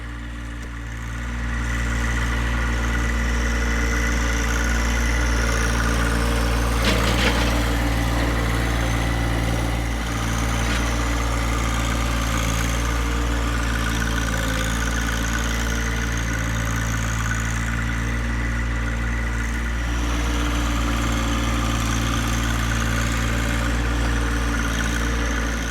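A John Deere 1025R compact tractor's engine runs steadily at a constant mid-to-low rumble while leveling ground with a box blade, close and continuous with a faint clunk partway through and no talk.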